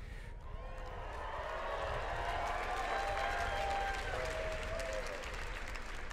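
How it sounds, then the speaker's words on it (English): Large audience applause at a graduation commencement ceremony, a broad sustained roar of clapping from a big crowd that swells slightly and holds steady, with faint tonal sounds riding above it. "Please hold your applause until all 455 of the graduates present have received their diploma"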